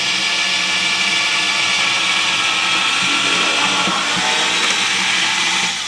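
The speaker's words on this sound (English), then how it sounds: "I'm going to drill a hole." A loud, steady whir of an electric drill boring a hole down into a guitar neck joint, running continuously without a break, with no voices.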